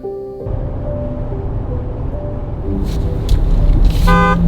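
A car horn toots outdoors amid steady traffic rumble, a sustained harmonic honk near the start and louder honks at the end, fairly close and clear over the background.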